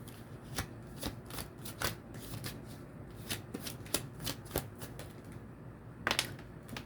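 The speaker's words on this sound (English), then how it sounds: "Let's get back and get the cards down." Tarot cards slapped down one after another on a table during a reading, a quick series of crisp, light card snaps and shuffling flicks close by, with no talking.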